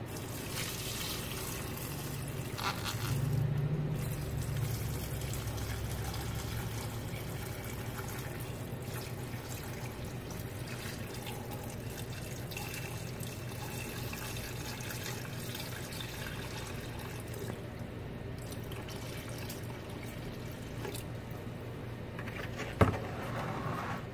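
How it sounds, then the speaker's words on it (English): Water runs steadily into a cooking pot packed with homemade New Orleans-style tamales, a continuous soft rushing and splashing fill that holds at a constant level with no talking. "Now we're gonna put water in there until it covers the tamales."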